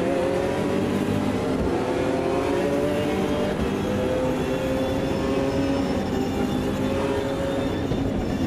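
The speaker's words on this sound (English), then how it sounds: "the Zonda is handling great, sounds great, looks great" A Pagani Zonda engine in the racing game Automobilista 2 holds a loud, continuous high-revving roar, rising and falling slightly as it accelerates through gears, heard alone without any voices.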